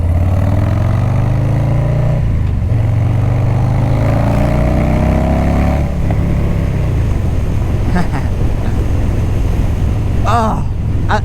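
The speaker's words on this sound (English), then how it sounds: "I love the torque on Harleys, dude. I can't speak for anything but the Milwaukee 8 engine" Harley-Davidson motorcycle with a Milwaukee 8 engine, heard from the saddle with a loud, steady throb as engine pitch rises and falls through gear changes amid rushing wind, with a rider talking briefly.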